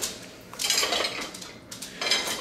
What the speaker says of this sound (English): That's a man right there cleaning his dish for his mother.